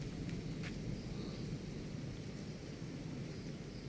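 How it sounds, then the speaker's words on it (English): Distant thunder rumbles low and steady under dark evening clouds in rural Roxas, Isabela, with a soft constant wash of rain or wind noise and no voices. "I hear lightning and thunder."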